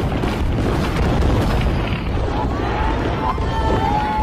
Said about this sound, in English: He monitors the progress of the fireworks show